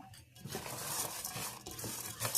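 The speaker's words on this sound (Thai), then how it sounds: "คนๆจ้ะ คนผัด คนผัดให้เขาเข้ากันจ้ะ" Rice porridge ingredients are stirred in a rice cooker pot, making continuous scraping and swishing with light clinks of the utensil against the pot, close by and without speech.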